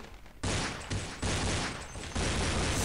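Bursts of gunfire in Counter-Strike during a one-against-several round, loud and close, with three dense volleys in quick succession and almost no gaps.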